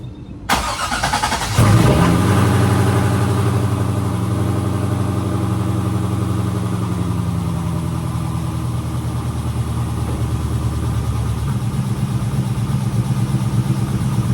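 A Corvette C5 Z06 being prepared for a track day cranks briefly, fires up with a loud roar, then settles into a steady, rumbling idle close by.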